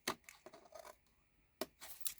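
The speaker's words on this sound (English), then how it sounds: "And then fold and cut tiny little slither." Scissors snip through paper wrapping during a scrapbooking gift-wrap project, giving a few quiet, brief cutting and rustling bursts separated by short pauses, close by with no talking.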